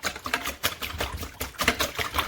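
Egg whites being whisked in a bowl for a crustless quiche, rapid rhythmic clicking strokes of the whisk against the bowl, close and brisk.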